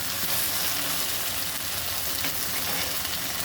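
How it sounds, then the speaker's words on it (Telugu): Okra frying with onion and tomato in a pan for bendakaya curry, a steady close hissing sizzle that continues evenly with no talk. "బెండకాయ వేసి బాగా వేయించాలండి"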